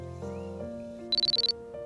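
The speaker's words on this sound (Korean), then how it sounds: "알람 소리에 언니가 깜짝 놀라 일어난다" A phone alarm tucked inside a stuffed toy goes off at dawn with a short, bright burst of about eight rapid beeping pulses. It rings over a steady, low background tone.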